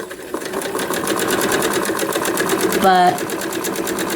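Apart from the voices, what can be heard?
sewing machine sewing batik fabric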